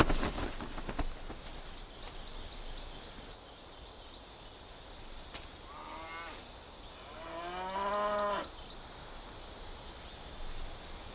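A water buffalo lows in a Chinese mangrove setting, one drawn-out harmonic moo rising and falling, moderately distant, over a soft bed of insects and rustling leaves.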